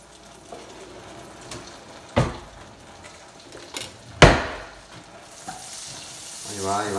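Shrimp sizzle and crackle in a frying pan, punctuated by several loud knocks and clanks of stirring, a quieter hiss in between and a faint voice near the end.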